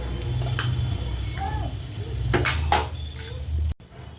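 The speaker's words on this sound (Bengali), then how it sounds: "মাংসের আলুটা ভাজা হয়ে গেছে এবার আমি নামিয়ে দেবো আলুগুলো" Potatoes for a meat curry frying in hot oil, a steady sizzle with scattered clinks and scraping from a utensil against the pan, close up, cutting off abruptly near the end.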